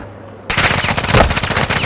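Automatic gunfire in Call of Duty: Modern Warfare II breaks in after a short quiet moment, a loud rapid burst of close shots continuing to the end.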